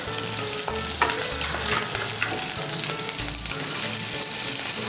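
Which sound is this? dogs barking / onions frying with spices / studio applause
onions frying with spices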